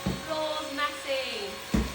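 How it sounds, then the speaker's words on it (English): A vacuum cleaner hoovering a messy floor in a home, a steady motor drone running through the whole stretch under ongoing talk, with a louder burst near the end. "Why is now the time to hoover?"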